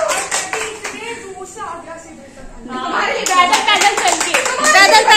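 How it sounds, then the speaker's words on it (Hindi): An event audience claps, a steady patter that builds louder toward the end, with talking over it early on. "तो तालियां तो बनती हैं राका के लिए।"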